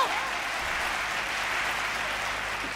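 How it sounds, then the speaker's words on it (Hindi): An audience claps steadily and loudly throughout at a Hindi comic poetry recital, a dense wash of applause with no speech over it. "अरे तालियां उठाओ जरा, आनंद आ रहा है तो।"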